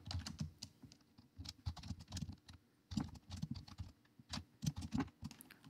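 Close, quiet typing on a computer keyboard as a command is entered, with irregular bursts of soft key clicks and brief pauses.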